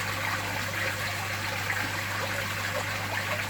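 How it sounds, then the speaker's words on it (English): Fresh water pours steadily from a hose pipe into a garden fish pond, a continuous close hiss and splash with no talk. "They love that fresh water going in"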